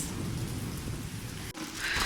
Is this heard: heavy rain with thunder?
yes